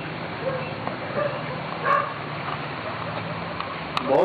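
Several dogs bark and yip in the distance over a constant noisy hiss, with one slightly louder burst near the middle and another at the end.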